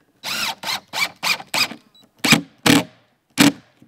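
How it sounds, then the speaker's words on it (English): A power drill drives screws into scrap wood in a series of short, close, high-pitched whirring bursts, about eight in all, separated by brief pauses, with the last few deeper and heavier as the screws bite in. "I'm just putting in these screws just to hold it in place"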